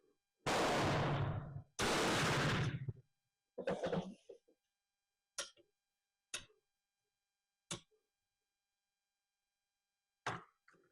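Gunshots from a Danish rolling block rifle, 11.7 caliber, fired at targets outdoors: two long, loud booming reports at the start, then a series of sharper, shorter cracks spaced a second or two apart, with silence between them.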